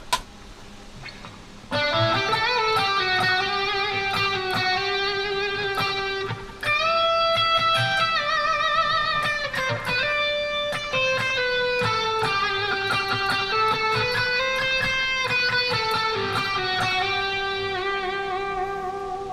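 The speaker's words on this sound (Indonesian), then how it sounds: "Sekarang kita coba suara distorsi high gain ya." Heavily distorted high-gain Squier Affinity electric guitar with Seymour Duncan pickups, sustained saturated notes and bends ringing out loudly after a brief opening pluck.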